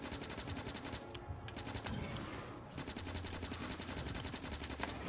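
Sustained rapid fire from a defensive turret shooting at bugs in the factory-building game Factorio, a dense train of sharp repeated shots at fairly low level, continuing almost without pause.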